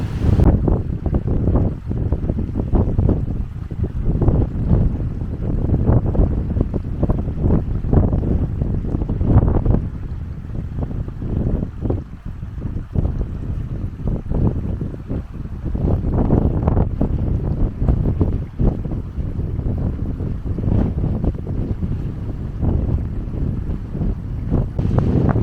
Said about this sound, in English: Because the wind's blowing, it's also blowing the water to the right